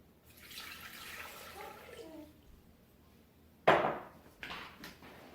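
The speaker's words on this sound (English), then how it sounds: "add 2 cups of water into the Thermomix mixing bowl" Water poured into a Thermomix TM6 mixing bowl, a short splashing gush that starts abruptly and trails off, followed by a second brief pour, in a quiet kitchen.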